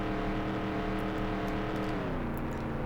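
A race car engine roars steadily in the NASCAR 98 video game on the oval at Atlanta, a loud, sustained drone whose pitch shifts partway through, with no talking.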